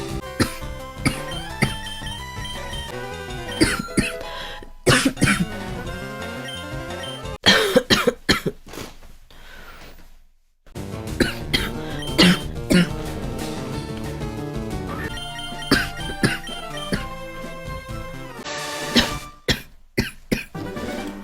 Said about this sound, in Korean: 저는 오자마자 기침이네.